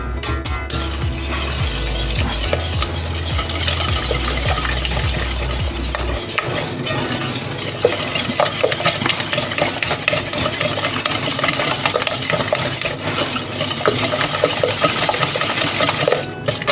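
Ingredients for mojito tartlets get stirred together in a bowl, a loud, continuous close scraping and swishing that runs throughout with scattered small clinks, and a low hum that drops away partway through; nobody speaks.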